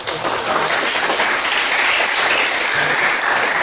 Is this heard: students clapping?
yes